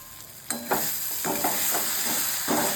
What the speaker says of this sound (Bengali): এবার একটু ঢাকাটা করে নেড়ে নিতে হবে।